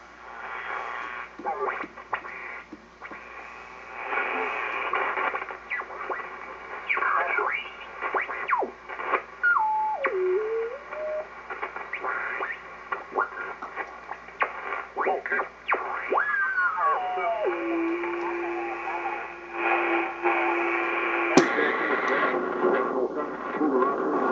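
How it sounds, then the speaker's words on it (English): A Hallicrafters SX-146 receiver tuned across the AM band without its 5 kHz filter fills with broad interference: hiss, whistling heterodyne tones sweeping up and down, and a steady carrier hum, with a sharp click near the end. "without the 5 KC filter, it's a little broad, so you're going to pick up a lot of interference"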